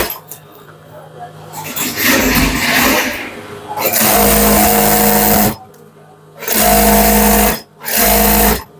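A sewing machine stitches a Punjabi garment, running in loud bursts of a few seconds separated by short pauses, with a voice talking underneath in the quieter stretches.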